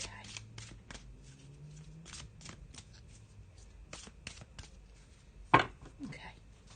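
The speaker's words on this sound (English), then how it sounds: "Just have a little shuffle" Tarot cards being shuffled by hand, a series of quick crisp riffles and taps close up, with one sharper snap near the end and faint low speech.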